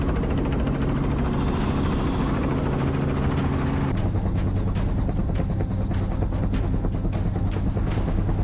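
A helicopter used for hunting gray wolves in Wyoming drones with a steady low engine rumble and rapid rotor chop, the throbbing pulses becoming more distinct partway through.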